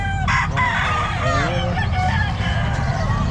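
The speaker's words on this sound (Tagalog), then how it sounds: "Ito mga manok nyo." Chickens and a rooster at the Calumpit pet market, with a rooster crowing in a long wavering call near the start over steady clucking and a constant low murmur of the crowded market.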